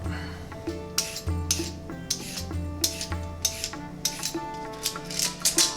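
A kitchen knife chops the tops and bottoms off washed carrots, producing a series of crisp, close knocks on a cutting board at an uneven pace, alone without talking.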